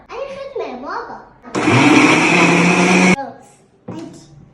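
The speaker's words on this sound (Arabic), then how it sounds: "هيضربوه في الخلاط" Electric kitchen blender whirring loudly and steadily for about a second and a half, bracketed by a voice and other talk before and after.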